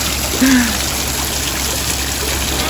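Water trickles and splashes steadily in the background, a soft continuous wash with one brief brighter spatter near the start and no talking over it.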